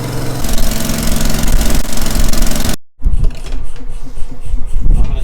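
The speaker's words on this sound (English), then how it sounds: "So this is a test hose to start the engine." Rebuilt Detroit Diesel 671 engine cranking and running on a test hose: a loud, dense mechanical clatter and roar, a brief cutout near the middle, then a rough, pulsing idle that picks back up.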